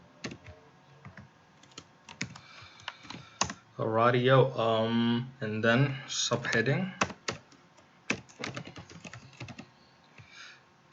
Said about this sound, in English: this is what programming entails. A whole lot of typing.